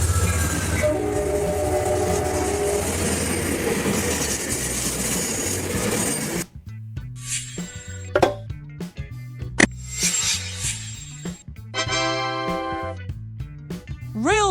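Double-decker passenger train running, a loud sustained rumble that gives way to clattering wheels on track, with horn blasts and whistle tones rising above the noise, fairly close.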